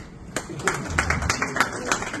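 An audience at a business and investment talk claps briefly, scattered quick hand claps from a modest group, close and uneven.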